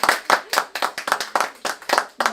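Applause from a salon-evening concert audience after performers bow, heard as a steady run of about a dozen distinct, fairly loud claps in a quick, even rhythm, close by and alone.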